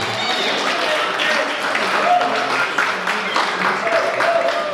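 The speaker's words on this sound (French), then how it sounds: "applaudissements pour maman Christine" Steady applause from a crowd at a 60th birthday celebration in Los Angeles fills the clip, a continuous wash of clapping with a few louder bursts.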